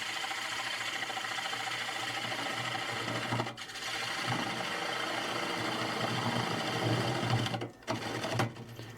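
Lathe cutter shearing a spinning gum wood bowl, a steady loud whirring hum with a constant low tone and gritty scraping texture, briefly dipping twice as the tool lifts off.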